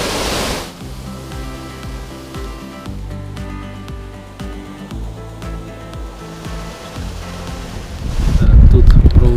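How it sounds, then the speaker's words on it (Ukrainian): Rushing water from a waterfall on a wild Carpathian trout river flows steadily throughout, with a louder surge of roaring water near the end. "Ось такий потік води ще йде."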